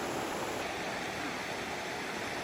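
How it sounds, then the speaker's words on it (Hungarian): Steady babbling of a small stream running across a path in the Slovenian countryside near Bled, an even, continuous close wash of water with no speech over it. "Csodálatos csobogás."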